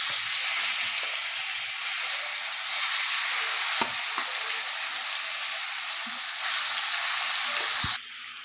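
Marinated chicken drops into hot oil with whole spices such as black pepper, bringing a loud, steady sizzle of frying that holds for about eight seconds, then eases slightly, with faint stirring clicks underneath.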